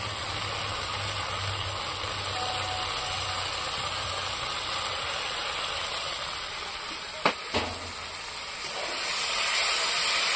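Ground cashew, poppy seed and melon seed paste fries in an oily masala, a steady loud broadband hiss that runs almost unbroken, with a couple of brief knocks midway and the sizzle swelling at the end.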